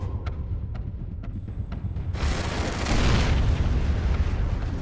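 A dynamite blast in a tunnel construction accident, staged as a TV reenactment, erupts as a sudden loud, broad roar after a few faint ticks and rumbles on for several seconds.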